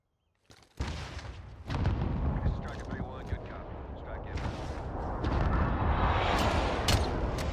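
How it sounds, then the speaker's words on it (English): Airstrike explosions in Call of Duty: Modern Warfare boom in after a brief quiet, leaving a dense, rumbling roar of blasts and gunfire that keeps building and stays loud throughout. "What an airstrike"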